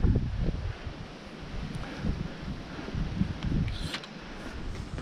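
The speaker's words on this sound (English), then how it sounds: "If that wind would just die down." Strong gusty wind on an exposed mountain slope, roaring steadily into the microphone and swelling and easing in waves with nothing else over it.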